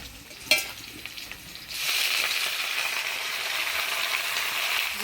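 Hyacinth beans tossed into hot tempered oil with potatoes, starting with a few clinks and stirring scrapes, then bursting into a loud, steady, close sizzle that holds to the end with no talking.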